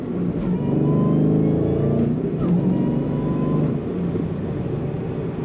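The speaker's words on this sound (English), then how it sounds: "Another one that's fun to push the throttle on," A 2013 Chevrolet Camaro ZL1 engine revs up loudly and holds a steady, throaty drone close by, easing slightly toward the end with no talking.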